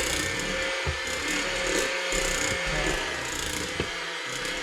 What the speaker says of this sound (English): Alright, now we're going to blend that on low.